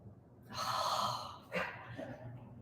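A voice imitates a held breath catching during yoga: a sharp, breathy gasp that stretches out, then a shorter second catch and a soft exhale, close and alone.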